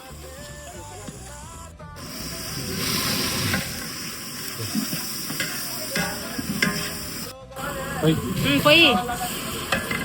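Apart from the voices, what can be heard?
stirring ginger into pot for bagara rice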